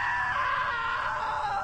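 A drawn-out scream from a character in the video game What Remains of Edith Finch, loud and sustained with a slowly falling pitch, with no talk over it.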